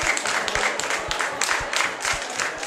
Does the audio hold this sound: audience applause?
yes